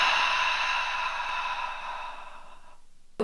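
Full exhale during a breathing exercise, a long airy breath out that slowly fades over about three seconds, close to the microphone, with a brief sniff at the end.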